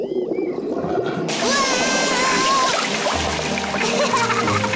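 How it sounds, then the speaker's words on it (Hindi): Cartoon water gushing from a hose into an inflatable paddling pool, a bright splashing and gurgling stream that starts abruptly and runs steadily, with light cartoon music and sound effects around it. "पेपा ने पाइप पकड़ी और मम्मी ने पानी शुरू कर दिया।"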